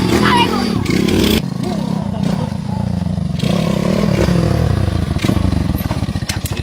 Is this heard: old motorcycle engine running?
yes